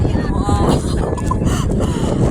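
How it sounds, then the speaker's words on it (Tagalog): Strong wind buffets the microphone in a loud, constant roar, with voices talking underneath, on the Dragon's Back hiking trail at Shek O, Hong Kong. "Masyadong mahangin."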